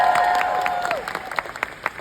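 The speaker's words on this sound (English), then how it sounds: "Let's give them a big round of applause." Applause at a career conference starts under a sustained tone, then thins into separate, scattered claps that fade toward the end.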